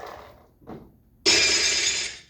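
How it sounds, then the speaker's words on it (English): Glass shatters as a sound effect in a stage drama club performance: a brief rustle, then a loud, bright crash of breaking glass that rings and scatters for about a second before fading. "You want a broken glass?"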